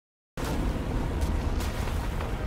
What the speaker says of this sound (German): da gibt es eine riesige Explosion